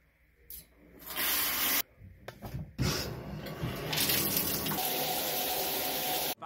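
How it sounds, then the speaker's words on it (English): A home shower turned on, bursting into a loud, steady hiss of spraying water after a brief start-stop at the tap, then running continuously close by with no talk. "let's start the shower"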